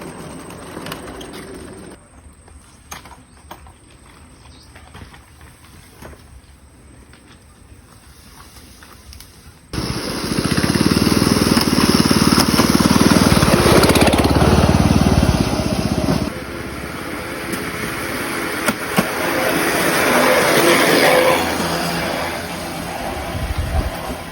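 A homemade motorized vehicle's small engine starts up abruptly partway through, running loud and steady nearby before easing slightly, after a quieter stretch of faint outdoor ambience.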